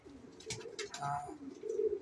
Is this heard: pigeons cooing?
yes